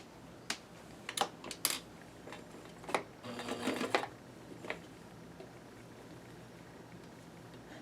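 A home sewing machine stitches sleeve hems in short bursts of rapid mechanical clatter, separated by isolated clicks and quiet pauses, close up with no talk.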